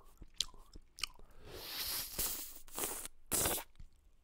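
Close, wet mouth sounds of eating cookies and cream ice cream: smacking, licking and soft crunches come in irregular bursts, quiet but very near.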